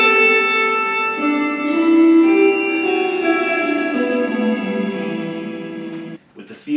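Electro Harmonix Cathedral reverb pedal producing a sustained, shimmering wash of tone that swells and slowly fades over several seconds, ending in a brief quiet tail.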